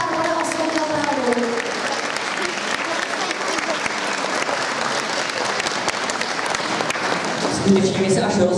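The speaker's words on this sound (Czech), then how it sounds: "No to chce potlesk." A concert audience applauding a performer dressed as Saint Barbara, dense continuous clapping across the whole stretch, with a voice talking over it at the start and again near the end.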